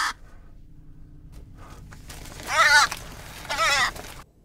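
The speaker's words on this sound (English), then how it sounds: "That sounds like someone beating a crow to death." A crow in the film Antichrist gives two harsh, rasping caws about a second apart, loud and close over a quiet background.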